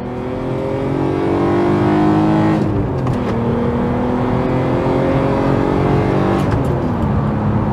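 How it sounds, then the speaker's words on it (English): Revving of the VR6 engine in a Volkswagen MK4 Golf R32, loud and close, with two rising pulls that build to high revs, each cut off by a sharp drop before the engine climbs again. "what you guys really want to see is what happens when we open this VR6 up."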